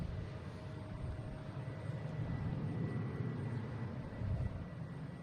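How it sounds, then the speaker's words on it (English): A Delta Embraer E175 jet takes off at Boston Logan International Airport, heard as a steady, distant low roar that swells slightly toward the end. "we have Delta taking off to Reagan. Flight 5672, E175."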